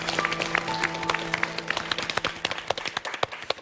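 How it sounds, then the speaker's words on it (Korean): Studio audience applause on a Korean TV talk show, crisp overlapping claps at close range that grow sparser and more distinct toward the end. "박수로 오늘 환영합니다."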